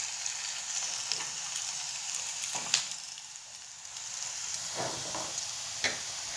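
Methi muthiya dumplings sizzle and fry steadily in oil in a pan, a constant hiss with occasional soft clicks and scrapes as pieces are flipped one by one.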